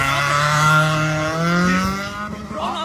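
Race car on a track, a loud engine whine with rising and falling pitch as it accelerates and passes, fading slightly near the end.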